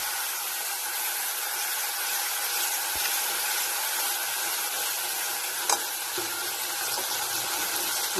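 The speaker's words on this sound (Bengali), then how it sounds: "দেখো জিরাটা ভাজা ভাজা হয়ে গেছে" Cumin seeds frying in hot oil give a steady, close, continuous sizzle and hiss, with a faint clink partway through and no talk.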